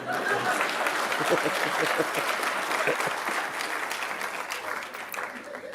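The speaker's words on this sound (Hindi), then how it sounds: "अब बजाएं तो ढंग से ही बजा लीजिए ताली" Audience applause at a Hindi poetry recitation by a poet at ILBS, a dense, steady clapping from a large crowd that fades slightly toward the end, with faint voices mixed in.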